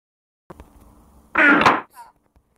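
A fart sound effect: a short, loud, buzzy blast lasting under half a second, preceded by faint clicks and followed by a brief softer tail.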